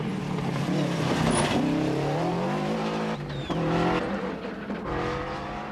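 A Subaru Legacy rally car runs a stage of the 1992 Circuit of Ireland Rally, its engine revving hard with sharp shifts, dips and pickups and a hint of tyre squeal as it drives by close.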